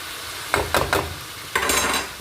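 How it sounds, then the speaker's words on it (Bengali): A vegetable bhaji with green chillies tossed in is stirred as it fries, three quick spatula scrapes followed by a longer stir over a steady sizzle. "এখানে কিছু কাঁচামরিচ খালি করে ভাজির মধ্যে দিয়ে দিলাম এখন হচ্ছে নেড়ে চেড়ে"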